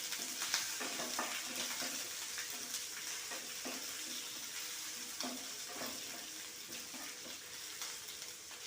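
Two mild green chillies fry in hot oil in a pan for an ivy gourd stir-fry, giving a continuous close sizzle broken by recurring scrapes of stirring, with no voices.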